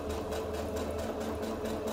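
A sewing machine runs steadily, stitching a 5/8 seam allowance on a Regency gown, with a continuous close whirring hum and no break or talk.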